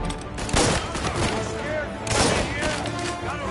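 Repeated gunfire in a shootout in the video game Mafia: Definitive Edition, two loud bursts of shots over a busy game soundscape with voices talking.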